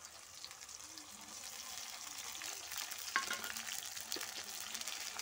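Ginger, garlic, dried red chili and cumin paste frying with tomatoes in a pan for chicken kosha, giving a steady close sizzle with occasional soft stirring scrapes throughout.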